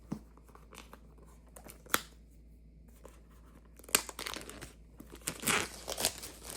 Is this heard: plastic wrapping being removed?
yes